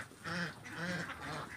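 Laying ducks on a duck farm giving three loud, nasal quacks in quick succession, close by and alone.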